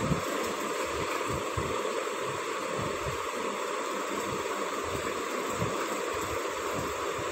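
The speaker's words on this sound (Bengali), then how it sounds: "এবার জল দিয়ে দেব পরিমাণ মতো" Water pours steadily into a cooking pot of sabu khichuri, a continuous rushing splash at moderate volume with no talk.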